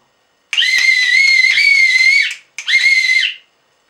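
Two loud, sustained whistle blasts, the first about two seconds long and the second shorter after a brief gap, blown to call back a pet budgie in training; no talking.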